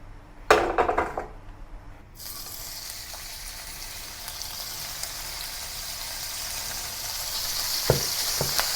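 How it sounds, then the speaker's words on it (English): Beef slices frying for a Chinese-style beef and mushroom stir-fry, a steady close sizzle filling the pan over medium heat after a few brief clatters at the start, with occasional small pops and scrapes. "I stir fry the beef separately and then combine with the stir fry veggies later"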